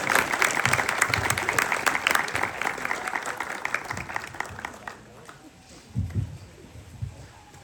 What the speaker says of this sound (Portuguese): Bate uma salva de palmas porque ele merece.